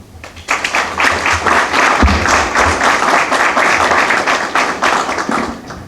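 Loud, sustained applause from an audience at a Grand Masonic Lodge of Uruguay tribute to the Honorary Scientific Advisory Group, dense clapping swelling in quickly and holding steady for several seconds.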